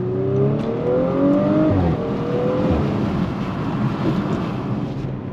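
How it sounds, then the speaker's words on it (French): A 450-horsepower Audi RS4 with a 2.9 V6 accelerates hard, its engine note climbing steadily as it pulls through the revs, then easing back into a loud, rough drone with road and wind noise. "Véhicule qui marche vraiment très fort. On ressent que ce V6 a été poussé."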